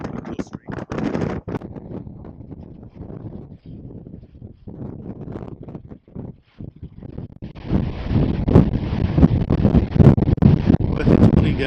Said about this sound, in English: it is windy out there